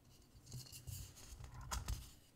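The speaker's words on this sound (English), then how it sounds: "I can go ahead and trim away that extra ribbon." Scissors trim excess ribbon off a no-sew Christmas tree ornament, a few soft close snips and rustles over a low hum, quiet and brief.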